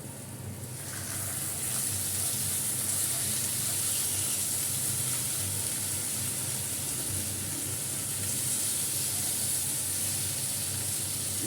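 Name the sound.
fish sizzling as added to fried onions in pan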